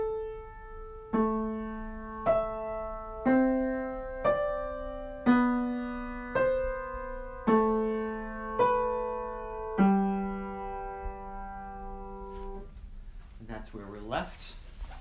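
Playback of a two-voice fourth species counterpoint exercise: two clean tones moving in about a dozen evenly spaced, steady note changes, one voice held over the other's rhythm, ending with a short burst of talking.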